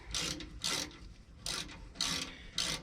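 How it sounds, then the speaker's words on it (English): A ratchet loosens the bolts on the driver-side air tank of a 2007 Freightliner Columbia truck. Five rasping, clicking bursts come in an uneven rhythm, close and moderately loud, with short pauses between strokes. "So I'm gonna get my ratchet back"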